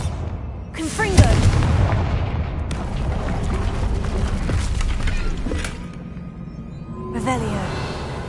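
Fiery Confringo spell blasts from Hogwarts Legacy, a run of loud booming bursts with crackling tails, spread across the stretch and mixed with game voices and talk.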